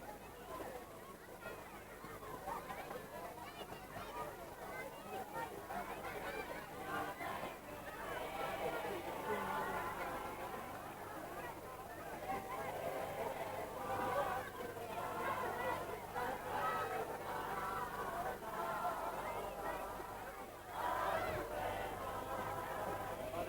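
A huge, orderly crowd at a 1983 royal visit to Te Poho o Rawiri marae chatters in a dense, continuous babble that swells louder midway, with voices mingling throughout.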